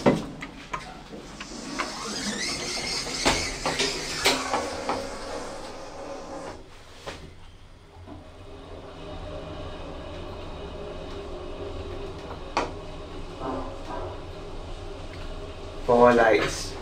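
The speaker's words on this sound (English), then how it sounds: "Another noisy Otis Gen 2." A noisy Otis Gen 2 elevator runs with a steady mechanical rumble and hum, broken by occasional clunks and a brief whine near the end, with faint voices in the background.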